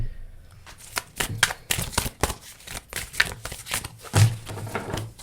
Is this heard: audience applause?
no